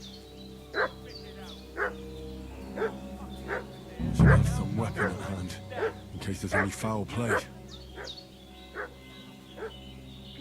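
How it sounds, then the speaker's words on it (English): Dog barking repeatedly in Kingdom Come: Deliverance II, set in medieval Bohemia: evenly spaced yips and barks at mid distance, under a man's speech in the middle. "What's that dog making such a fuss about?"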